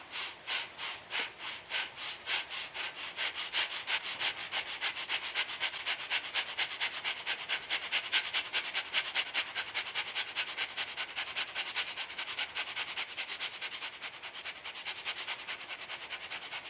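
Fast, forceful in-and-out breathing through the nose as a breathing exercise, a steady rapid train of sharp huffs repeated for the whole stretch, close and loud with no talking.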